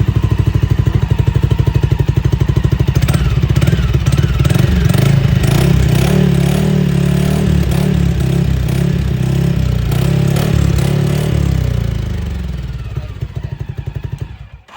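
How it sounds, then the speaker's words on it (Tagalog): An FX 400cc Predator automatic 4x2 UTV engine fitted with a catalytic converter runs steadily and loudly up close with a dense mechanical rumble and some clatter, then eases off and fades near the end. "kahit 400cc siya, hindi siya ganun kalakas na tunog kasi naka-catalytic po siya guys"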